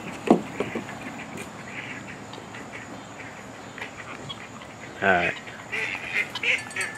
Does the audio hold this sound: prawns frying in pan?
no